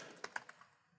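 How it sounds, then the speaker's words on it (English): A computer keyboard being typed on, four quick close clicks in a short burst that fades into near silence. "If I can type it properly"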